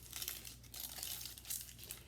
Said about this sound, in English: all you would need to do is again peel the onion